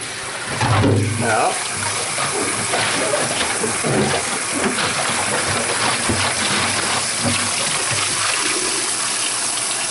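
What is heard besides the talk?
water rinsing out a plastic jug carboy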